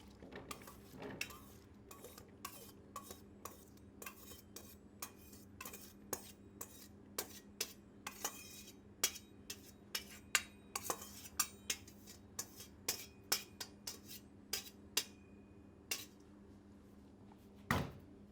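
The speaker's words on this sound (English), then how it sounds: "I'm going to take my spatula and just scoop them out." Washed potatoes are scooped from a container into a pan with a spatula, giving repeated light clatters and scraping taps in an irregular rhythm over a low steady hum, with no talking.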